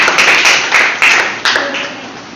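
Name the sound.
audience applause for debate winner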